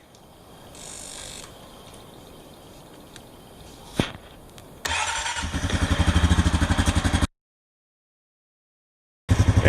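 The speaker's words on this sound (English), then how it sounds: "I'm gonna let it run for a few minutes to let it circulate through the system." A 2017/2018 Honda Rancher 420 ATV starts and idles loudly up close after an oil and filter change, its steady engine rumble cutting out briefly before resuming.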